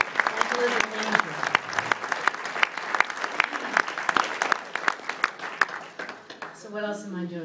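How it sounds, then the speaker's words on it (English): Loud applause from a crowd at a soccer banquet dinner, with many hands clapping in a dense, uneven patter for several seconds before it fades and a voice resumes speaking at the end. "I want to give her an applause right now."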